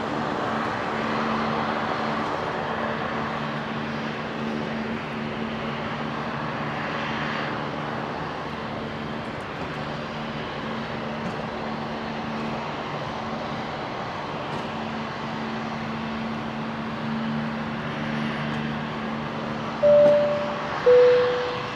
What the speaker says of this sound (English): Virgin 950 rolling the 73 heading to Sydney there